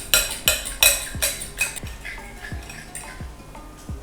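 A utensil beats raw egg with leftover spices in a pan for egg curry, making quick rhythmic metallic clinks and taps, about eight strokes, loud at first and then softer, close by with no voices.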